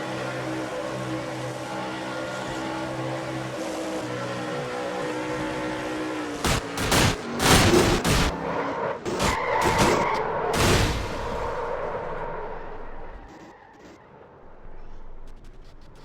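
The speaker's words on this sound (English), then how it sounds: "you heard Levi trying to get his truck to start back up" Race trucks in a NASCAR-style truck series racing video game at Charlotte, with a crashed truck's engine cranking and failing to restart amid loud bursts of impact and skidding noise, then fading to quieter engine hum.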